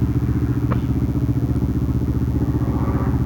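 A Honda CBR 250RR motorcycle with a 249 cc engine runs with a steady, loud buzzing drone that holds even throughout, with faint rattles mixed in.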